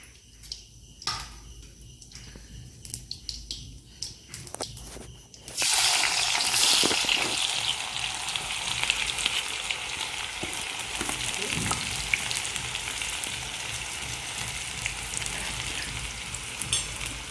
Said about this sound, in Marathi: मोहरी तडतडली की त्यामध्ये आपण कांदा घालूया.